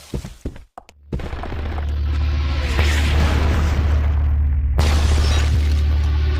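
Gunfire and explosions in the video game Parasite Eve: The 3rd Birthday: a few sharp shattering bangs open, then a dense, loud, sustained roar of blasts and rumbling fills the rest.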